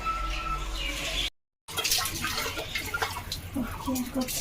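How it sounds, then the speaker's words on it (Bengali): Dishes are washed under running water at a village home, with a steady rush of water and faint clinks of utensils, close by. A short break of silence interrupts the flow. "বাসন গোসন ধুচ্ছি"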